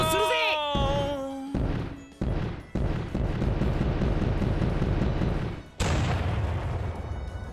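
A boss character named Tetsuatama blows up in the Ninja Box video game with loud, booming crashes and repeated blasts that give way to a sustained roaring rumble, and no voices are heard.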